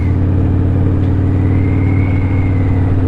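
An engine drones loud and steady at high RPM right after a gear change, a constant buzzing rumble with a faint whine rising slightly, no voices over it.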